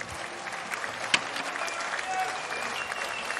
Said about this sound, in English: The crowd are showing their appreciation for the man from Uzbekistan.